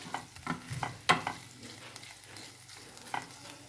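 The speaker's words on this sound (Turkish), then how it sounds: "Soğanla kıymayı önceden kavurdum." Onions and minced meat are sautéed in a pan for an okra dish with chickpeas. A utensil stirs and scrapes with soft clinks over a faint, steady sizzle, close and fairly quiet, with no one speaking.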